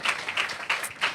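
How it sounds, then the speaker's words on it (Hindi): A congregation at a healing worship service claps in a brief burst of applause, moderately loud and slightly distant in a large room. "जोरदार तालियां बजाइए।"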